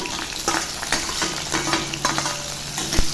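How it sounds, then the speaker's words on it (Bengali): Onions fry in hot white oil with whole spices in a wok, giving a steady, close sizzle broken by brief stirring scrapes, with no talk. "পেঁয়াজটা একটু ভালো করে ভেজে নেব"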